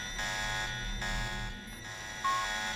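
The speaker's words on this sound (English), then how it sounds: "I could just stand here until the alarm stops going off" An alarm sounds in the video game Deus Ex: Revision, a steady electronic tone that pulses on and off in a repeating rhythm at moderate, even loudness.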